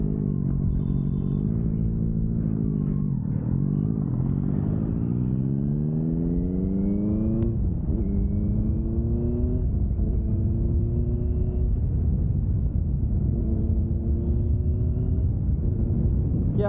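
A Honda H'ness motorcycle accelerating hard, the engine note climbing in pitch through repeated rising sweeps as it shifts up through the gears, loud and close with a throaty rumble.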